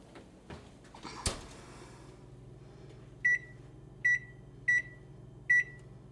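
A kitchen timer for a baking cake gives four short, sharp beeps at even intervals near the end, after faint clatter and a thump in a quiet kitchen with a low hum beneath.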